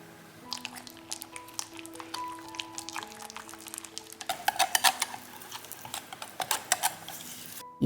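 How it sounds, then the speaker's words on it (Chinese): Egg yolks are poured into mango chiffon cake batter and stirred in a bowl, producing quiet close wet squelches, drips and light clinks of a utensil against the bowl, growing busier and more rhythmic toward the end. "加入蛋黄混合"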